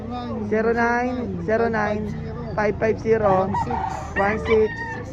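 Several fighting roosters (gamefowl) at a breeder's yard in Lipa City, Philippines crow in repeated overlapping calls, near and loud, while people talk in the background.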